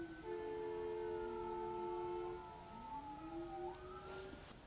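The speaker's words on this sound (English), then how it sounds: "and there are sirens" Wailing sirens sound outdoors at a distance, several rising and falling tones overlapping steadily for a few seconds before one sweeps upward near the end.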